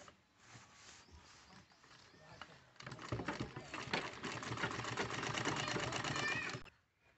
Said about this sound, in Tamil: இந்த ஜாயிண்ட்டுக்கு இந்த ஜாயிண்ட் வச்சு அப்படியே ரவுண்டாக வந்து தையல் போட்டுட்டு வந்துடலாம்.